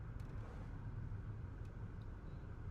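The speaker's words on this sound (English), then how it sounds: "all you can hear is a bit of traffic humming and the car's engines" Quiet, steady low hum of a car engine and distant traffic from inside a moving car in a vampire role-playing video game, a faint continuous rumble with no talk.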